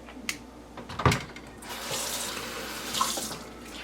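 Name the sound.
washing and rinsing canning lids under running tap water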